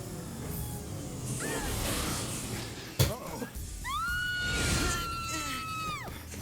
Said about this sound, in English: That was a very believable scream by Final Fantasy standards